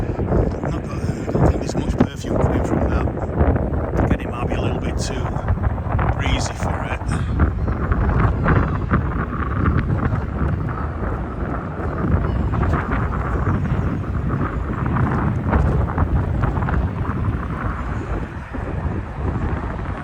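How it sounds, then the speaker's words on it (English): Steady outdoor wind gusting across the microphone in a country-house garden in February, a continuous loud rumble and buffet for the whole stretch with no pauses. "it might be a little bit too breezy"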